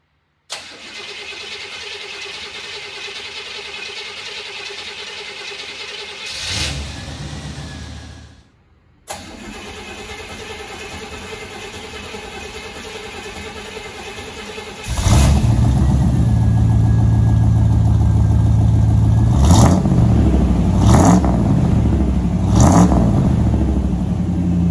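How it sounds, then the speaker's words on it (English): A 1986 Chevrolet pickup truck is cold-started: a steady run-up, a brief pause, then the engine catches into a loud, rough idle with several sharp revs, all close and without talk. "Next is a 1986 Chevrolet pickup truck."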